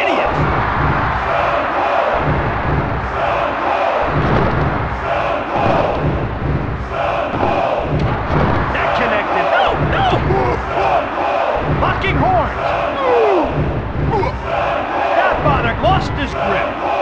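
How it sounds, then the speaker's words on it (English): A wrestling arena crowd roars continuously at deafening volume, with cheers and shouts swelling in waves and a commentator's voice running beneath. "This crowd is deafening."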